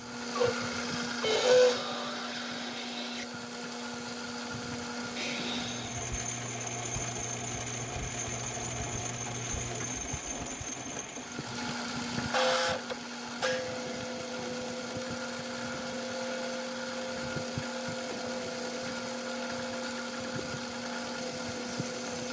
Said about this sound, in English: now I'm going to drill all the way through, and I'm going to ream it 501